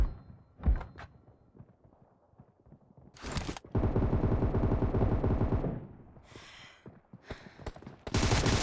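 Gunfire in the mobile battle royale game BGMI: a few isolated thumping shots, then a long sustained burst of rapid automatic fire, followed by scattered shots and another loud burst at the end.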